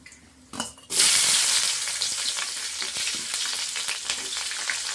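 Green chilies fry in hot oil with cumin seeds in a pan, a loud, steady sizzle that bursts in after a brief quiet start and continues with light stirring clatter.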